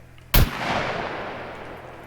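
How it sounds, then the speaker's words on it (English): A single loud, sharp gunshot from a gun in the video game SCUM cracks out and leaves a long echoing rumble that slowly decays. "So loud, this gun."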